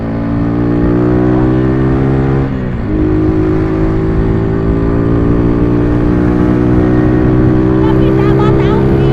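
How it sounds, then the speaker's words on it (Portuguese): A motorcycle engine revs loud and close throughout, with steady harmonic drone, a brief dip and pitch jump mid-way as the rider pops a wheelie, then sustained high revving; faint voices mix in. "Vou começar a dar grau aqui pra tu ver."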